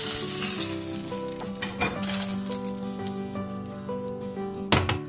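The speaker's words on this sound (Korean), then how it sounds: "고기 표면의 수분을 잘 제거해주고 시어링을 해줍니다" A Costco beef strip loin steak searing in a hot pan, a loud, close sizzle with metallic scrapes and clinks of a utensil against the pan, and a sharper spatter burst near the end.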